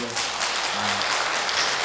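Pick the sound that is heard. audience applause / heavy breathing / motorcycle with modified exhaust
audience applause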